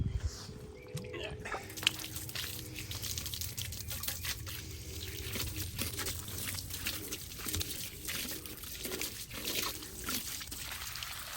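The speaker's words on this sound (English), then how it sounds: "So we're gonna start by just watering them down, giving them a good rinse off" Hose water splashes and patters onto old car wheels in a garage, a continuous faint rinsing spray with irregular drips and trickles.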